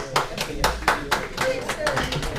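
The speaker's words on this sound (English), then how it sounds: "I think they're clapping not because they want you to." An audience at a conference claps, with uneven, fairly close claps in a loose rhythm that rise and fall across the short stretch.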